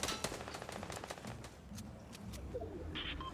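Rifle fire in the Fortnite battle royale video game: a rapid burst of sharp shots at the start thins into scattered single cracks over a steady game-ambience bed, with a faint birdlike chirp near the end.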